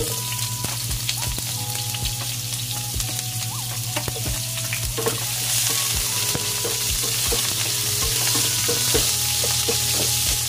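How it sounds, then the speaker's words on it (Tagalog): Onion hits a hot frying pan for sweet and sour lapu-lapu, a loud steady sizzle with occasional stirring clicks, continuous throughout without any talking. "Lagay ko na yung aking onion."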